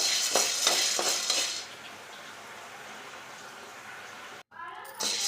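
Dried field beans (mochai and avarai) are dry-roasted and stirred in a pan for a bean curry. A brief burst of rattling, scraping strokes comes first, then a quieter steady hiss, a short dropout and a return of sound.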